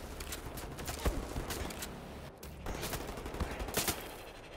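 Gunfire aimed at the player in Wolfenstein: The New Order, rapid bursts and scattered single shots cracking over a continuous rumble of battle, with a short lull midway, moderately loud and close.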